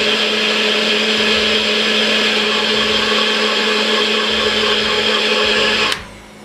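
A blender whirs steadily at full power, mixing honey into a fat-burning bedtime drink, a loud constant motor roar that stops abruptly near the end.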